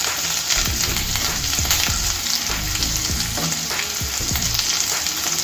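Grated ginger and garlic sizzle steadily in hot oil for chilli fried rice while a spatula stirs through them with repeated scraping strokes, close and continuous.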